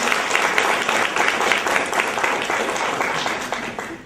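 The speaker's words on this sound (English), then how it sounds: "Let's give these kids some round of applause." A crowd at a foster care event applauds foster kids, a close, loud burst of many hands with a few sharper individual claps, sustained for about four seconds and easing off at the end.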